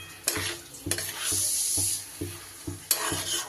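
Soaked rice frying and being stirred over high heat for Bengali ilish polao: a steady sizzle runs throughout, broken by regular scraping strokes of a spatula in the pan, close and moderately loud, with no talking.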